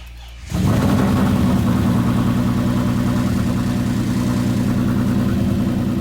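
A single turbo Audi S4 on a low battery cranks briefly, then catches and settles into a loud, steady running rumble that continues close by.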